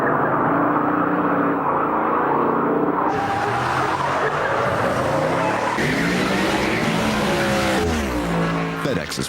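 Race cars at the 2005 Aaron's 499 NASCAR event roar steadily past on the track, a loud continuous engine drone with rising and falling pitch sweeps as cars pass, under crowd and PA noise.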